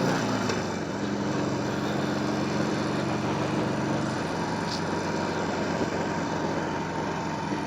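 The engine of a small beginner motorcycle drones steadily while it is ridden, a continuous moderate hum with no talk over it.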